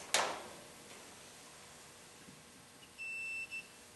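Multimeter continuity check on an automotive DC circuit, with a faint steady electronic beep sounding for about half a second, then a short break and a brief repeat, after an initial click, quiet and without talk.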